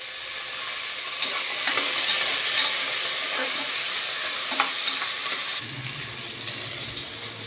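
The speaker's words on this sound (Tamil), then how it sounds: "பூண்டு அளவு சேர்த்துருங்க. இதை நல்லா வதக்கிடுவோம்." Onions, garlic and curry leaves sauté in a pan for a spicy tamarind curry, giving a steady loud sizzle with occasional scraping stirs.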